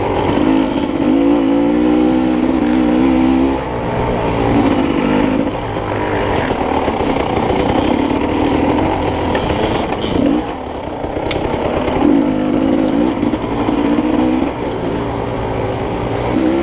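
Racing motorcycle engine at the FMHSC 2024 round in Leavenworth, Kansas, droning steadily through a lap with repeated rising and falling revs, loud and close throughout without talk.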